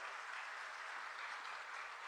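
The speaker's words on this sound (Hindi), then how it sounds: "जोर से ताली बजाओ अर्जुन मुंडा जी के लिए भाई" A crowd applauding at a political rally in Khunti, a steady wash of clapping at a distance, quiet and unbroken for a couple of seconds with no voices on top.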